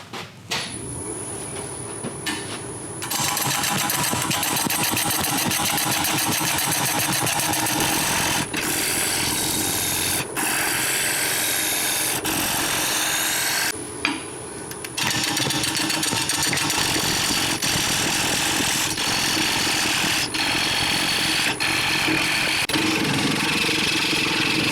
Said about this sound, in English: Gonna be turning at 450 RPM, 5/8 inch bowl gouge.